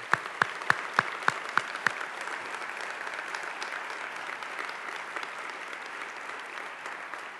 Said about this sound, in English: Ken, would you stand for a moment and receive our applause for your wonderful service to our university?